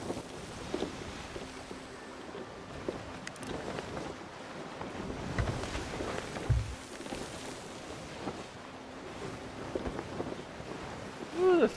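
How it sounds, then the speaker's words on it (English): Rough open-ocean waves wash and surge around a sailing ship in the pirate game Sea of Thieves, a steady roar of water and wind with swells building and breaking, and voices talking over it now and then. "Big waves."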